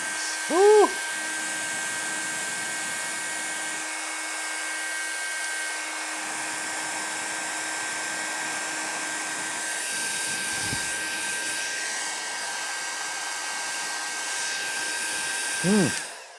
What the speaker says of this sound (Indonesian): mari kita tes seberapa kencang dan seberapa panas nih hair dryer